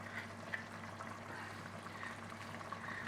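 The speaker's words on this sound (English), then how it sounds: "Add the water." Water pours steadily into a pan of garlic spicy chicken curry, a soft continuous trickle and splash heard up close at low volume with no talking.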